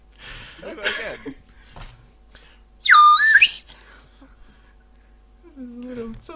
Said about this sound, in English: It's a little tin whistle.